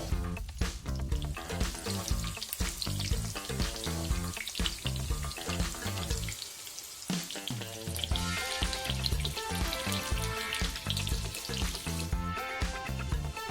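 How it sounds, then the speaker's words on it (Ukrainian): Potato sicheniky patties frying in a pan, a constant, close crackle and sizzle under a musical backing, with occasional scraping as the batch is turned. "загрузили другу партію і все гарненько обсмажуємо"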